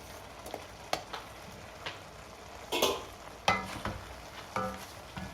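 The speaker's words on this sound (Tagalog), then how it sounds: "Ihahalo po natin ang ampalaya po natin." Bitter gourd (ampalaya) being stir-fried in a pan, a soft sizzle under repeated scraping and stirring strokes from a spatula, irregular and close.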